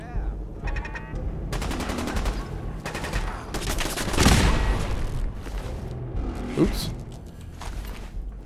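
Gunfire in Fallout 4 played with many mods: rapid automatic bursts, then a heavy boom in the middle and a further sharp shot, with a voice talking underneath.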